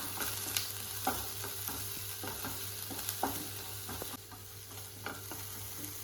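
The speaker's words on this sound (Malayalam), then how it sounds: "3 പച്ചമുളക് അരിഞ്ഞ് നീര് വഴറ്റി കൊടുക്കാം." Three chopped green chillies sizzle softly in a pan for a spinach stir-fry, with a steady low frying hiss broken by irregular scraping stirs, close and quiet, with no talking.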